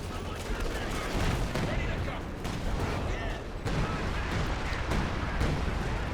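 A 105mm artillery barrage rains down in the World War II strategy game Company of Heroes 2, a dense, continuous rumble of shell blasts and crackling gunfire, loud and sustained throughout with no spoken words.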